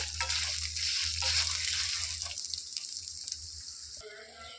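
Dried red chillies fry in a hot pan with a steady, close sizzle and crackle that runs without a break and eases near the end.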